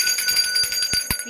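A short bright notification bell chime rings several quick times in a row, light and metallic, with no talking over it.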